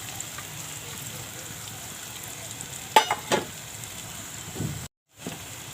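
Asafoetida and 1.5 spoonfuls of masala frying in oil for a mixed twelve-vegetable bhogi bhaji, a steady soft sizzle with a few louder stirring clicks and a brief cut to silence near the end.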